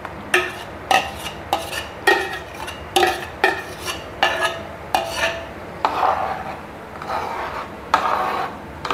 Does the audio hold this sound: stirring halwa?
yes